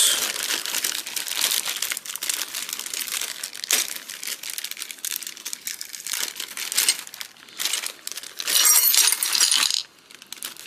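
A plastic baggie of small AK-style gun parts from a Romanian AKM parts kit is crinkled and rustled steadily up close for several seconds, with brighter crackling bursts near the end and no talking.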